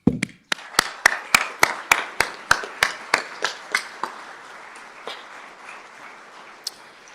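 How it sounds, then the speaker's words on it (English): Sparse, isolated hand claps at a police department awards ceremony: a dozen or so sharp, evenly spaced claps ring out over about four seconds, then fade to a quiet, reverberant room with one last stray clap. "I want to give a round of applause to all of you for all the hard work you do"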